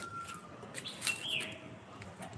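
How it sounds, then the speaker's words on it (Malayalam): Faint birds chirp and tweet in the distance over a soft outdoor hush near a chilli plant, a few short calls scattered across a quiet moment. "കിളികൾ കിളിയുടെ സൗണ്ട് കേൾക്കുന്നുണ്ട്"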